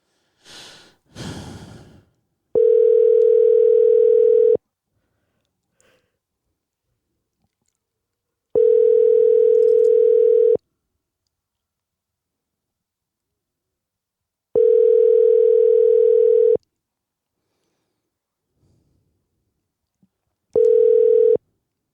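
Phone call ringback tone, four loud steady electronic tones each lasting about two seconds, separated by long silent gaps, following a few breaths at the start.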